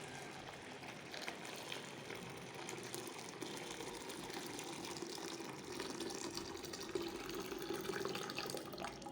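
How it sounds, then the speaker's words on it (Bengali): Milk is poured from high up into a pot for making yogurt, giving a continuous frothy splashing and rushing stream that stays steady throughout. "এখন দুধগুলো ঢেলে দিব। অনেক উপরে থেকে যেন ফেনা ওঠে"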